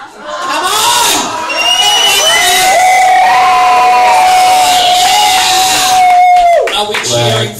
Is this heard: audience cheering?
yes